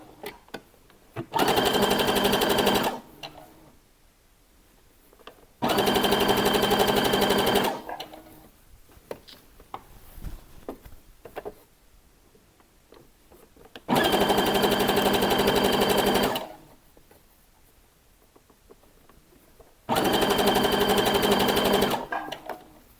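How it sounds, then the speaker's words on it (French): A sewing machine stitches fabric one centimetre from the edge in four loud, steady bursts of rapid mechanical whirring, separated by quieter pauses with small handling noises. "Là, je le positionne et je couds à 1 cm du bord."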